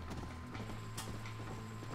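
Horse hooves clip-clopping at a steady trot in a Western-style game, a quick regular rhythm of light thuds over a low constant hum, moderately close and fairly quiet.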